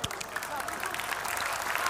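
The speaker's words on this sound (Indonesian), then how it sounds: "Ayo dong ma, tepuk tangan semua." A crowd claps steadily, applause filling the space with a dense, continuous patter at moderate volume.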